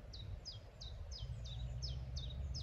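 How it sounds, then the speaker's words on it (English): Outdoors near a spruce tree, a songbird repeats a short, bright, descending chirp about eight times in steady rhythm, clear and moderately close over a constant low rumble of background noise. "The bird song"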